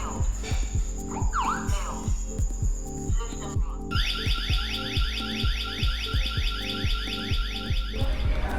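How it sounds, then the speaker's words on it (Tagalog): A home security alarm is set off by a Tuya smart door lock. A continuous electronic siren sounds with fast repeating warbling pulses, and its pitch pattern changes partway through, with a steady rhythmic throb underneath. "The Tuya smart door lock is connected to the home security alarm system."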